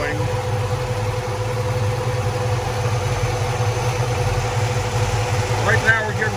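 1973 Ford Mustang Mach 1 V8 idling nearby with a steady low rumbling drone, even and continuous throughout, with a brief faint sound near the end.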